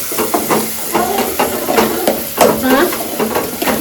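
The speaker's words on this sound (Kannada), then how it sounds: "ಹಸಿ ವಾಸನೆ ಹೋಗೋ ತನಕ ಫ್ರೈ ಮಾಡ್ಕೊಬೇಕು" Ginger garlic paste frying in a pan, a loud close sizzle and hiss with rapid repeated scraping strokes of stirring throughout, no clear talk.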